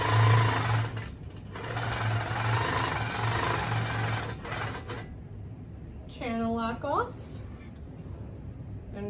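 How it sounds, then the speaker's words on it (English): Handi Quilter longarm quilting machine stitching across tote bag fabric, a steady loud mechanical whir with a brief pause, then quieter machine noise with a short rising whine near the end while a person talks. "stitch all the way across this side"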